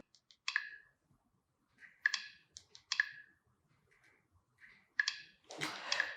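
Sharp clicking taps from a Micromax IN Note 1 smartphone being unlocked during a durability test, several distinct clicks spaced irregularly over a few seconds, close and fairly quiet with a brief rustle near the end.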